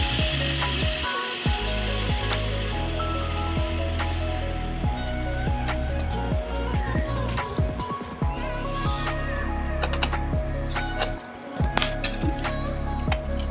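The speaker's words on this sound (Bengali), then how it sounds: "এটা ভাজা হোক" Eggs fry in a pan with ground black pepper for a dhaba-style egg tarka with whole masoor dal. Constant crackling sizzle is punctuated by frequent sharp clicks and clinks from the pan and utensils.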